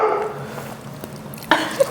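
A pet dog barks a couple of short, sharp times indoors near the end, after a stretch of quiet room noise.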